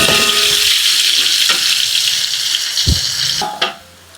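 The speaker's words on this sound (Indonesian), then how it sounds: "Kita tumis bumbu halus." Ground spice paste sautés in a hot pan with a loud, steady sizzle, broken by a few scrapes and knocks of a stirring utensil, then quieting toward the end after a final clatter.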